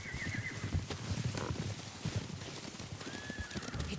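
Horses approaching in the video game Ghost of Tsushima: steady clip-clop of hooves with a horse neighing and whinnying at the start and again near the end, close and fairly loud.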